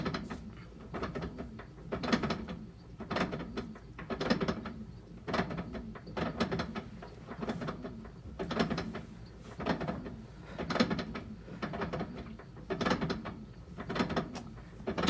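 A washing machine clunks rhythmically while the bleach dispenser engages, a repeating mechanical thud and rattle about every second, with no talk over it.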